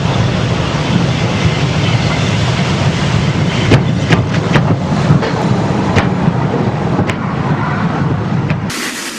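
Hunslet steam locomotive number 3844 passes a weighbridge on an industrial line in Wales, a steady loud rumbling roll with scattered sharp metallic clanks and knocks, then a sudden burst of hiss at the end.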